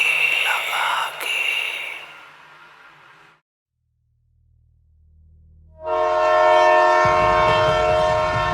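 Train passing in a radio drama scene: a busy rattling rush fades to near silence, then a loud sustained horn blares with low rumble beneath, no talking.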